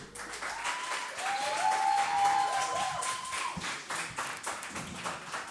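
Applause for a singer as she is welcomed onto a live music show stage, a sustained crowd clapping at moderate distance with a faint sung or whistled tone drifting over it.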